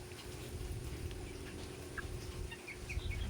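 Chickens on a rural Philippine province farm cluck softly in short, scattered calls over a low background rumble, faint and somewhat distant.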